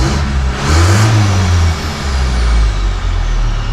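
A TF Rodeo with a manualised A340 automatic gearbox and Transgo shift kit revs loudly and close, its engine note rising and falling as it runs through the gears, with no talking.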